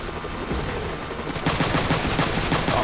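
A machine gun fires at helicopters in the video game Front Mission 3, with dense rapid bursts of gunfire that grow louder and more rhythmic partway through, over a constant layer of game noise.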